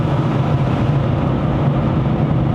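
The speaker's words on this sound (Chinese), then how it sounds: "这个突然听到 turbo 声，那个吸气的声音啊" A 2024 Proton S70 Flagship X with a turbocharged engine climbs a mountain road uphill, giving a steady, loud cabin roar of engine and road noise with a low droning hum throughout.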